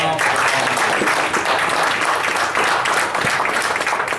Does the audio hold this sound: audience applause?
yes